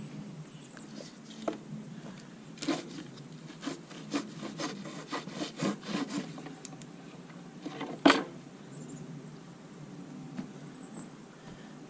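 A wax fire starter being cut apart with a blade, giving rough rubbing and sawing strokes in a burst of short scrapes, then a single sharp cut near the end, close and fairly quiet with no talk.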